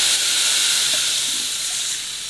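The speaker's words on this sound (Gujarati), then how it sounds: "આ લીમડાના પાંદડાનો વઘાર થઈ જાય ને પછી એની અંદર આ કેરીનો રસ નાખી દેવાનો" Mango juice hits a hot tempering of curry leaves and asafoetida for mango kadhi, giving a loud steamy sizzle and hiss that slowly fades over a couple of seconds.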